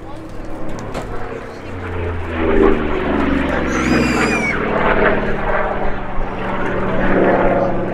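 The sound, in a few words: Vought Corsair fighter aircraft flying at airshow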